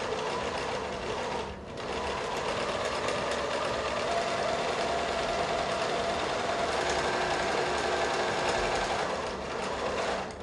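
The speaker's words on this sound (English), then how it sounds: "I'm going to sew down one side," A sewing machine runs steadily, stitching a seam down one side of fabric about a quarter inch from a marked line, with a continuous close whirring and rapid needle chatter and a brief dip near the start.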